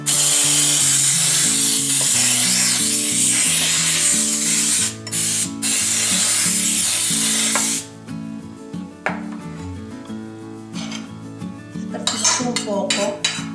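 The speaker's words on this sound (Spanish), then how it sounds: "yo en esta oportunidad le voy a poner este spray que ya tiene harina" Baking spray containing flour is sprayed into a cake mould for a cassava cake, with a loud continuous hiss for the first several seconds, then clinks and scrapes of the tin and utensils, with no talking.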